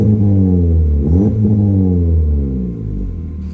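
Honda Civic Type R FL5 with its center muffler deleted, revving loudly and close by, the exhaust note climbing and falling in pitch as the throttle is blipped, then settling into a steady droning rumble.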